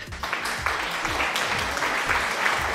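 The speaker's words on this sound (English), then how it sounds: "Thank you for the applause." Steady applause from a crowd, dense clapping that continues without a break, loud and close throughout, no voices on top.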